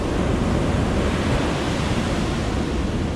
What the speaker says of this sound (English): So I'll pour it into here.